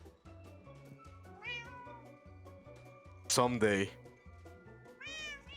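Two cats meow in a Minecraft game, several rising synthetic meows spaced over a few seconds, one louder and longer, over a steady repeating low musical pattern while a person speaks briefly.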